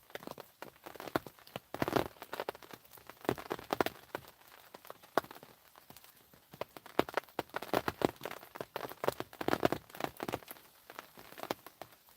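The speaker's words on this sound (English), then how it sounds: "Can you hear the rain hitting on the bivvy?" Rain falls on a carp fishing bivvy by the water, giving a faint, continuous patter of irregular drops tapping on the fabric close overhead.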